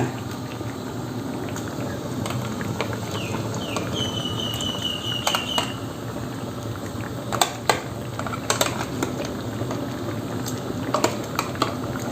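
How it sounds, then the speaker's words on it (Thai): Curry broth with prawns simmering in a pot, a steady bubbling hiss running throughout with a few sharper clicks and clinks near the pot, no voices. "เริ่มเดือดแล้วนะคะแล้วก็ใส่กุ้งเลยค่ะ"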